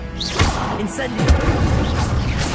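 A fire spell cast in Hogwarts Legacy on PS5 bursts out as a rushing, whooshing blast with a heavy thud near the middle, over continuous game noise and spoken lines.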